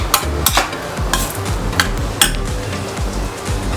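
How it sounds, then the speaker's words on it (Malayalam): A spoon scrapes and knocks rhythmically around a pan as sweet ragi filling is dry-roasted and stirred over medium flame, a brisk, steady series of close, loud strokes with a faint sizzle underneath. "നന്നായിട്ടൊന്ന് മിക്സ് ചെയ്തെടുക്കാം. ഒരു മീഡിയം ഫ്ലെയിമിൽ വെച്ചിട്ട് നന്നായിട്ടൊന്ന് ഡ്രൈ ആക്കി എടുക്കാം."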